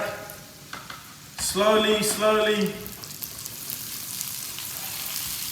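Meatballs frying in garlic sizzle with a steady hiss while someone speaks briefly over it; the sizzle carries on softly after the voice stops.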